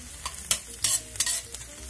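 A wok of shredded potatoes is stir-fried over high heat, giving sharp, irregular bursts of spatula scraping and tossing over a low, steady sizzle, with no voices.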